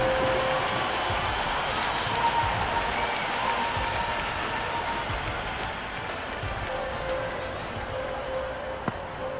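A cricket stadium crowd applauds and cheers a six at an IPL 2026 match between Rajasthan Royals and Delhi Capitals, a dense, sustained roar of clapping that fills the whole stretch.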